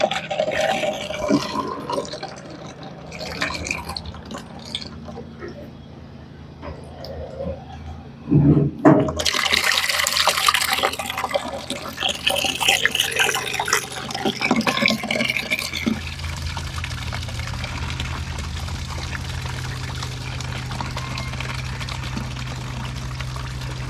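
Maple syrup draining out of an evaporator pan, a splashing pour and liquid rush that swells midway then settles into a steady gurgling flow, with a person talking at points.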